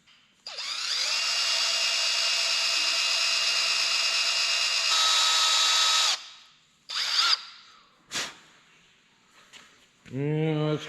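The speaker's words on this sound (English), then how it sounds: "we got to see if we can drill that close to the center" A power drill bores out a broken bolt in a homemade lip block on an off-road wrecker, whining loudly and steadily for several seconds, then stopping and restarting in short bursts, with a voice at the end.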